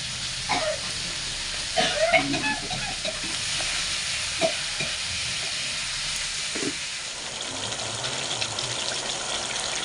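Meat for a Bengali kosha mangsho sizzles steadily in a hot pan, with occasional stirring scrapes and faint soft clinks over a continuous hiss.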